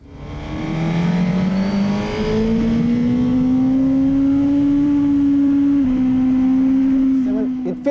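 A 2017 Suzuki GSX-R1000R sport bike engine revs loud and high, holding a steady climbing pitch for several seconds with a brief dip near the end, close and continuous.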